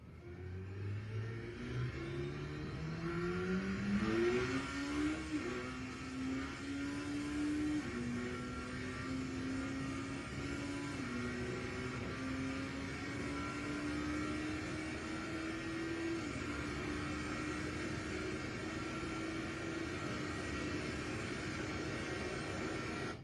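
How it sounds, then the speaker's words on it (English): A motorcycle accelerates, its engine climbing steadily in pitch for the first few seconds, then holding a sustained, fairly faint drone. No one talks. "we've got a motorcycle video here"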